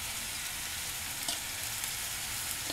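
Sauce poured over vegetables in a hot pan for a Maghrebi-style fish dish, a steady faint sizzle hissing on alone for a few seconds.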